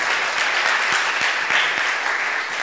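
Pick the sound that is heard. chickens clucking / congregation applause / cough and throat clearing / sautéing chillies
congregation applause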